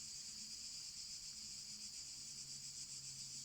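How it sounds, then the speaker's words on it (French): Crickets chirp outdoors in the French countryside along the Compostela pilgrimage route near Lascabanes, a steady high-pitched trilling drone that stays faint and continuous, with no voices. "On entend les grillons."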